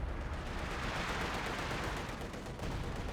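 Artillery barrages from a British officer in Company of Heroes 2 roar as dense, continuous booming gunfire with rumbling blasts layered over one another, loud and sustained with no pauses.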